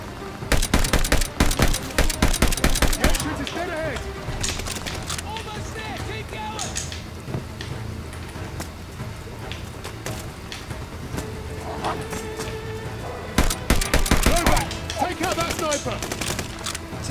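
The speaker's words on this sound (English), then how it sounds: "took him out with a semi-auto STG" Semi-automatic STG rifle fire in the Vanguard shooter game comes in rapid, loud bursts at the start and again near the end, separated by quieter battle noise with scattered single shots and a player talking.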